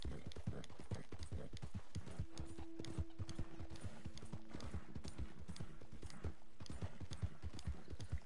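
A horse's hooves clip-clop at a steady galloping rhythm while a rider travels in an open-world video game, faint and continuous, with an occasional snort and a voice in the background.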